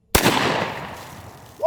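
A KS-23 Russian 4 gauge shotgun fires a single 1,000 grain slug: one sharp, very loud blast with a long echoing decay outdoors, followed by a short voice at the very end.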